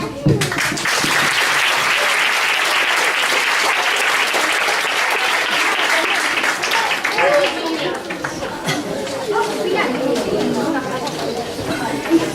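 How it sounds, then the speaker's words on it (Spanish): An audience at a school theatre performance claps loudly and continuously for the cast, dense applause with some chatter and cheering, gradually thinning toward the end. "pedimos un grande aplauso para este maravilloso elenco"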